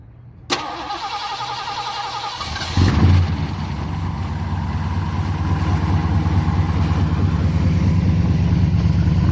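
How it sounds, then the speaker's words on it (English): A Ford Crown Victoria engine cranks and catches, then settles into a steady, loud rumbling idle close by, running continuously with no talking. "The car sounds incredible."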